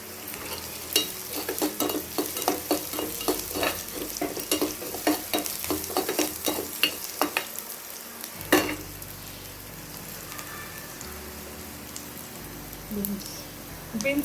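Green chillies sizzle and crackle in a hot pan for ravai kichadi, with repeated stirring scrapes in an irregular rhythm for the first half, then quieter low frying with a sharp clink near the middle.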